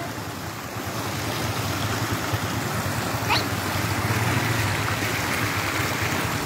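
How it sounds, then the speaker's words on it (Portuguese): Water pours steadily over the spillway of an overflowing reservoir in Ceará in a continuous, close, full rushing roar that stays even throughout. "a gente registra apenas o registro das primeiras horas dessa água escorrendo"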